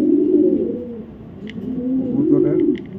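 Imported racing pigeons coo close by in soft, rolling low calls repeated several times, with a few faint chirps in the background.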